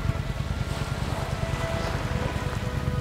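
A passenger boat idles on open sea at Padmadurg sea fort off Murud on the Konkan coast, dropping people between the outer wall and the main fort: a steady low engine rumble with wind and water wash, no voices.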